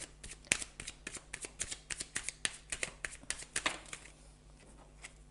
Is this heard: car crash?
no